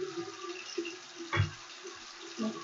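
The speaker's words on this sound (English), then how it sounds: "I'm going to take out my implements, rinse them off, dry them off" Waxing tools rinsed under a running tap, with a steady close splash of water, a dull knock near the middle and soft clinks as the metal implements move in the stream.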